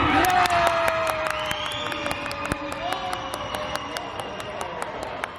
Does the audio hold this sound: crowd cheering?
yes